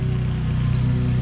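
A lawn mower engine drones steadily nearby during work on a 2002 Subaru WRX, a loud continuous low hum with no talking over it.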